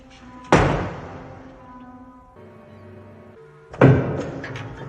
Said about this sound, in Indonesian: Lalu pintu kembali ditutup.